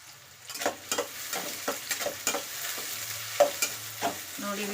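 Sliced onions fry in a pan for an Uttara Karnataka brinjal palle, a soft steady sizzle broken by repeated close scraping stirs of a spoon, with no voice.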